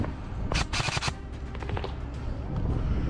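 Airsoft gunfire during a game: a rapid burst of several sharp cracks around the middle, then scattered lighter shots, heard close amid outdoor background noise.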